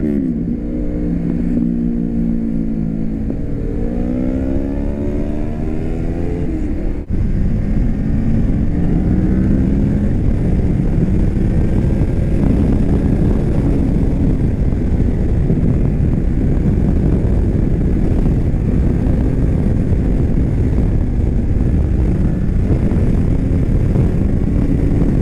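Yamaha R3 motorcycle with a very loud exhaust, revving up through rising pitch sweeps early on, then holding a sustained high-rev roar under heavy wind noise while riding.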